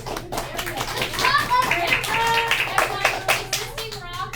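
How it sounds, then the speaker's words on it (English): A classroom applauds a student, a burst of close, sharp claps from children's hands in an uneven rhythm, with kids' voices and chatter mixed in throughout. "Round of applause for Darren."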